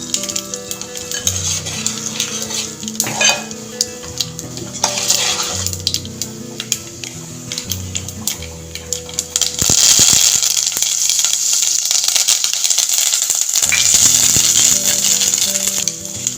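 Asafoetida and turmeric fry in hot oil as a tempering for jackfruit (panasa pottu) curry. A crackling sizzle rattles under metallic stirring and pan clatter, and it grows louder and more intense partway through. The sound is close, with no talk.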